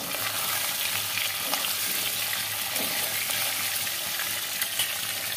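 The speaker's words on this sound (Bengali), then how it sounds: "পনির ভাজছি, পনিরটা বেশি ভাজবো না, হালকা ভাজবো।" Paneer frying lightly in a pan for a chicken biryani gives a steady, even sizzle with soft stirring scrapes, close and continuous, with no voices.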